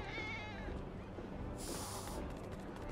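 A cat meows repeatedly in Final Fantasy VII Remake, its wavering cries in the first part giving way to a brighter, higher call around the middle, all over steady game ambience.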